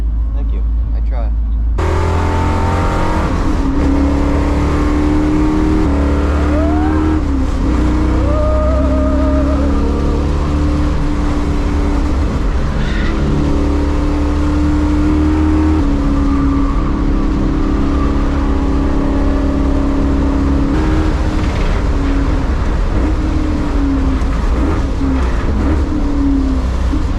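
A T56 Chevrolet Caprice on a race track, its engine a loud continuous drone heard from inside the cabin, rising and falling with revs while people talk over it.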